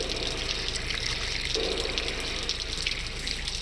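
Designed sound effect of water falling onto a grate, a steady splashing rush that runs throughout at moderate loudness with no voices.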